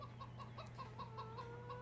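A rooster in the Farming Simulator 17 video game clucks in a quick, evenly spaced series of short calls. The calls are faint and sit over a steady low hum.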